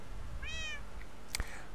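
A cat in the game Minecraft gives a single clear, rising-then-falling meow, followed shortly by a short click-like knock, over a faint background hiss.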